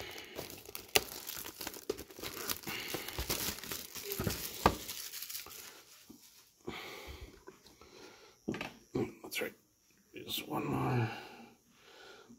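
Topps trading card box packaging being torn and crinkled open, rustling plastic and cardboard loud and close for the first several seconds, then sparser crinkles and handling noises with gaps.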